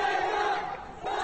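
A stadium crowd of football fans roars and chants steadily, a dense, continuous wall of voices with a brief dip near the end before swelling again.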